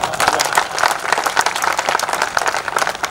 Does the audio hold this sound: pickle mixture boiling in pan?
no